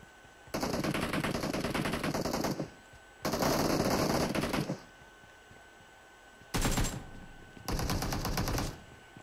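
Automatic gunfire in the video game PUBG Mobile during a firefight, heard as four loud bursts of rapid shots: two long volleys, a short burst, then another long volley, with brief quiet gaps between them.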